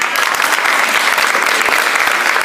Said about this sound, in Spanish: Un fuerte aplauso para Natalia.